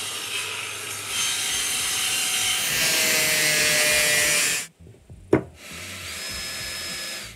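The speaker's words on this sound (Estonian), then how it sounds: "Puurin siia augud sisse, et mulle ei läheks veneer katki, kui ma pärast panen kruvi." A power drill bores holes into a wooden veneer panel during a bus conversion build, with a steady grinding whir for several seconds, then a pause, a sharp knock, and the drilling resuming.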